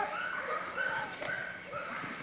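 Pit bull dogs in a breeding yard give faint, distant barks and whimpering yips against a steady outdoor background hiss.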